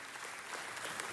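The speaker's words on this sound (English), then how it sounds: "Let's give them another round of applause." Faint, steady applause from an audience at a Los Angeles City Council meeting, a soft continuous patter of many hands heard at a distance for about a second.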